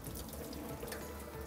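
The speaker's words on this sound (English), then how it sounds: "We're gonna fill our sink with cold water" Cold tap water runs steadily into a kitchen sink, filling it to wash Yukon Gold potatoes; a continuous, close rushing and splashing stream with no voices.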